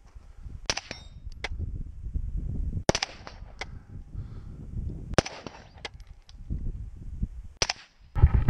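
An FN SCAR rifle fires at steel targets on an outdoor range: several sharp, loud shots at irregular intervals, each followed by a metallic ring from the steel plate.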